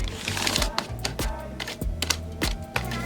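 A sheet of paper is slid between the keys of a computer keyboard to work dirt out, giving rapid, irregular clicks and rustling taps that come close and fairly loud in short bursts.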